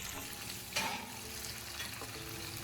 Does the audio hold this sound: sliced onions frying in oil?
yes